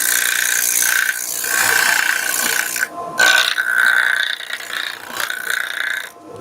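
A steady, loud whirring grind from a rotary sander on a wooden spatula runs throughout, with a couple of brief breaks where the pitch shifts.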